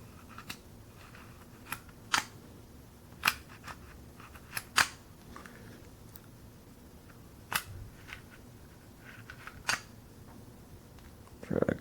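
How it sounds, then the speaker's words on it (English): Glock pistol slide greased with Tetragun lubricant being worked by hand, producing a series of quiet sharp clicks and clacks spaced irregularly over a faint background. "I just want to show you how smooth and quiet the Glock is when used with Tetragun grease."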